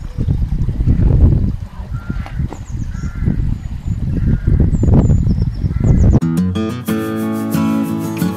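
Chickens in a farmyard in Malham in the Yorkshire Dales give repeated squawks and honk-like clucks at close range. The calls run through most of the stretch, and a sustained tonal sound comes in near the end.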